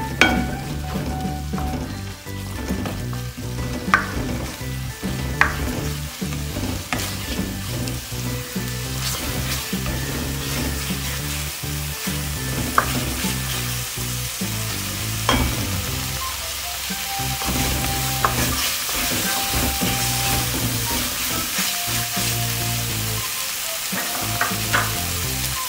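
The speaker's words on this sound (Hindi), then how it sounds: "अब इसमें थोड़ा अदरक लहसुन का पेस्ट डालूंगी, अब इसे भी अच्छी तरह भून लूंगी" Ginger garlic paste fries in a pan with a steady, loud sizzle and crackle. Occasional clinks of stirring come through, and no one speaks.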